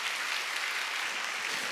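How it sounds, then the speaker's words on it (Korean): A church congregation claps at a Wednesday worship service. The applause is brief and even, a dense wash of hand claps at moderate volume that fills the whole moment with no breaks. "박수 치려면 세게 치라고."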